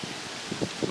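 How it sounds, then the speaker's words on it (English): Wind gusts rustle through leaves in short, soft bursts, close to the microphone, with no voices. "Windy, windy, windy."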